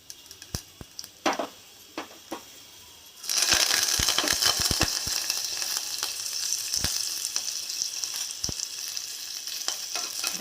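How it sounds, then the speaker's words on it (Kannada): Mustard seeds, cumin and curry leaves hit hot oil with a sudden loud sizzle that keeps crackling and popping steadily, after a few light clinks beforehand. "ಎಣ್ಣೆ ಹಾಕಿದ ನಂತರ ಸಾಸಿವೆ ಜೀರಿಗೆ ಹಾಕೋತಾ ಇದ್ದೀನಿ ಆದಮೇಲೆ ಕರಬೇವು ಸ್ವಲ್ಪ ಹಾಕೋತಾ ಇದೀನಿ"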